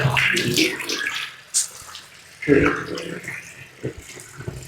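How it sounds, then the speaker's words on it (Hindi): Tap water splashing and pouring over the face during an Islamic face-washing routine for Hajj or Umrah, in short irregular bursts with a faint voice in places. "अब उसके बाद आपने मुंह के ऊपर पानी अपना डालना है।"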